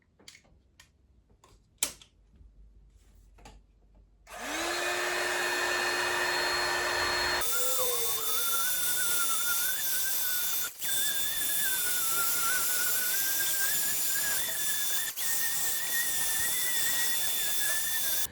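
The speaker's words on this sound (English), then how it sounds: "I'll take my heat gun and let's do it." A heat gun switches on and blows hot air steadily and loudly near the microphone for about fourteen seconds while parts for a Back to the Future guitar build are heated, with a whine that wavers and a few small clicks. No one speaks.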